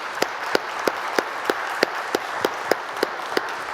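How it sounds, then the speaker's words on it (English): Audience at a finance-for-impact case study session applauding, with a crowd wash under a series of sharp, evenly spaced claps that sound like a single pair of hands close by. "I hope you can hear the applause"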